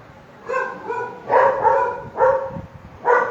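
Dogs barking nearby at an outdoor preaching spot, a series of four or five loud, harmonic barks spaced about half a second apart, with light background noise.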